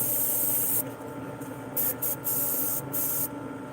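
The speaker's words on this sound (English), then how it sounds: "You can see how far I have my airbrush back from the bait" Airbrush spraying a light gold flake shine onto a fishing bait at low air pressure, held well back; a steady hiss in several bursts of about a second each, with brief pauses between, close and fairly loud.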